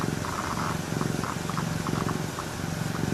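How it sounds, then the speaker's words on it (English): A cat purrs steadily up close, a continuous low rumbling throb with soft rhythmic pulses carrying on without a break, with no voices over it. "He's purring quite a bit."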